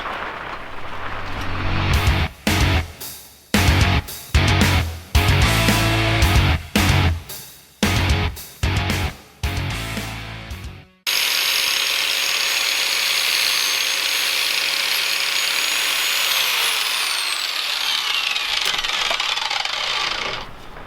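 A welder tacks a curved rear fender onto a Honda CB250 scrambler in about ten loud, sharp crackling bursts with short gaps between them, then a long steady mechanical whine takes over.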